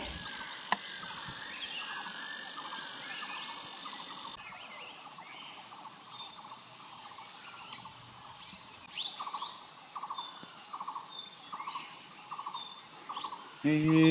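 Greater Yellow Neck bird calling in forest, repeated short chirping notes spaced through the clip over a steady insect and cricket drone, fairly faint and distant.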